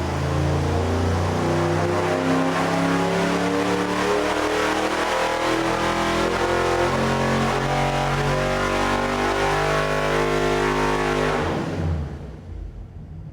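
A carbureted 305 V8 on an engine dyno revs in one sustained pull from 2,000 to 6,000 rpm, its loud, close note climbing steadily in pitch before cutting off abruptly near the end.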